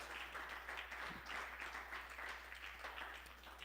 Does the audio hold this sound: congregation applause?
yes